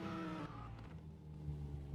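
The Initial D car in the video game Gas Gas Gas Simulator drifts with a droning engine tone and a tyre skid. The sound is steady and close, with no one speaking over it.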